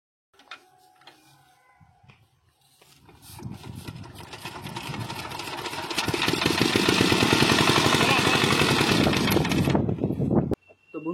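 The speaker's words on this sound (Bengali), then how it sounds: "দেখলেন আপনারা ইঞ্জিনের কি সমস্যা।" A faulty CD170 China diesel engine with a starting problem cranks and catches, then runs with a rough, rapidly pulsing knock that grows louder and steadier before cutting off abruptly.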